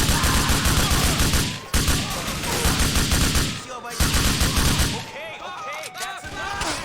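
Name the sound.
gunfire shooting through the floor in Grand Theft Auto 4 (video game)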